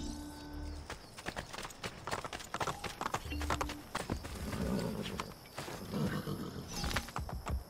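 Horse hooves clip-clop in the Assassin's Creed Brotherhood video game, a busy run of hoofbeats near and moderately loud, mixed with other game ambience and brief snorts.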